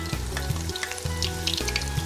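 Food deep-frying in hot oil in an iron pan gives a steady, dense sizzle with crackling bubbles, heard up close and continuously with no voices, while a low rhythmic background hum pulses beneath it.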